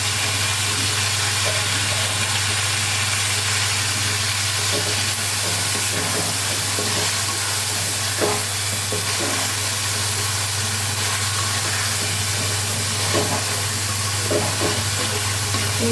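Chicken pieces frying in cooked-down spice masala for a Bengali chicken curry, producing a constant dense sizzle with a steady low hum underneath and scattered faint clicks, continuous and close, no talk.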